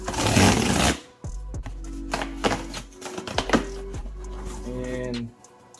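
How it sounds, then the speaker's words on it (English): Pull-and-tear cardboard shoebox for Adidas Yeezy Slides Dark Onyx being opened: a loud rustle at first, then close scattered taps, scrapes and crinkles of cardboard and paper, ending with a brief tearing rasp. "just one of these pull and tear type of boxes"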